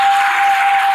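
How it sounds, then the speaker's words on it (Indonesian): Loud, dense applause from a crowd of university students at a campus orientation event, filling the whole second without a break. "Tepuk tangan dong untuk kalian semua yang semangat-semangat ini."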